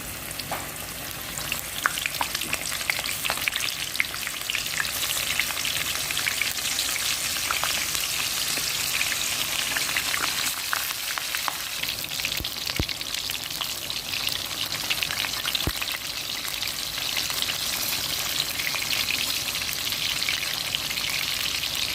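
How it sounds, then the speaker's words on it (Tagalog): Eggplant fries in oil in a pan, reused from frying eggs, with a steady, close crackling sizzle throughout and a couple of sharp clicks. "Same na oil. Iprituhin ko naman ito."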